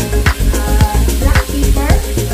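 Chicken stirred in a hot pan, a loud close sizzle with a spoon scraping rhythmically through the pieces several times.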